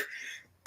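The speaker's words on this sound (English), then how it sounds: "I got a little cough." A single sharp cough bursts out loud and close at the end, after a stretch of faint hiss and silence; a live online host is coughing.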